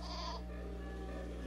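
A cartoon goat bleats once in a short, nasal cry over a steady low hum.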